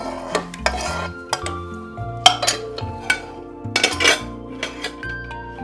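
Pakoras are spooned into kadhi in a serving dish with a run of close, distinct clinks and scrapes of metal utensils against the dish, spaced irregularly, with no talking.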